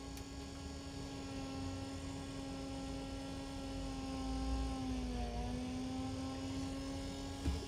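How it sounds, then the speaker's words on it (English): Fast forward motor of a Sony SLC9UB Betamax recorder running at full speed, a steady tonal hum with a slight pitch wobble partway through, quiet and continuous. "It's the fast forward motor."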